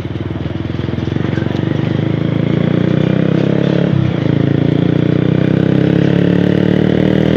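Bajaj Pulsar 150 motorcycle engine running steadily at close range, a loud continuous throbbing idle with slight clatter and a brief dip midway.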